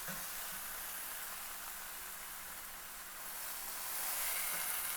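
Pork sizzles in a Falk pan with a steady, dense hiss and crackle that stays even, then swells a little louder toward the end, with no talking.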